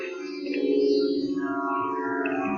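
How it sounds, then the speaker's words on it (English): Sustained tanpura drone in a Sikh traditional music setting, a steady layered hum with shimmering overtones that stays even and fairly soft throughout, with no talk over it. "Don't know if you can hear that in the background, but there's a tanpura now sounding."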